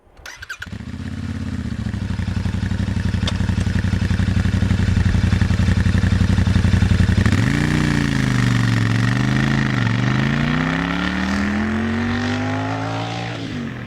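A Royal Enfield Interceptor 650 motorcycle engine starts and idles with a steady close thump, then revs up and settles through several rising and falling pitches, loud and alone.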